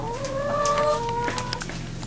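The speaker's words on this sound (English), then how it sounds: "Let's see how the chickens are doing." Hens kept inside an RV before a hurricane cluck and murmur continuously at close range, with overlapping tonal calls and a steady background hum, no talking.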